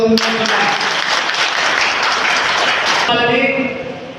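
An audience claps loudly and densely at a public meeting in Ambedkar Bhavan, Thallarevu mandal. The applause holds for about three seconds, then cuts off as a voice carries on speaking.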